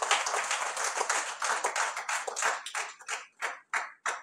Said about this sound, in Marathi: सर्व वक्त्यांचे आपण टाळ्या वाजवून स्वागत करूया